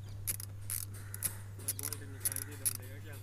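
A 10 mm bolt is loosened on a Maruti Celerio car dashboard, giving a few faint, quick ratcheting clicks under a steady low hum, with someone talking quietly throughout.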